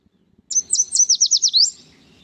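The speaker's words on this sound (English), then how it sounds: "Yellow warbler. Often represented in words, its song is sweet, sweet, sweet, I'm so sweet." A yellow warbler sings one clear song of about eight quick, sweet, high-pitched notes in a rising and falling phrase, close and loud against a quiet background.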